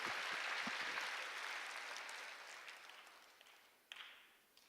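A church congregation applauds during a sermon, the clapping fading gradually, with a few scattered late claps standing out near the end.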